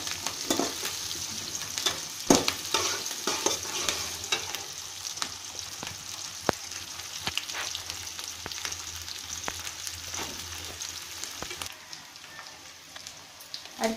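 Green chilies and tomatoes fry in a pan for mint chutney, giving a continuous crackling sizzle with scattered sharp pops and stirring scrapes, fairly quiet and close, easing off near the end.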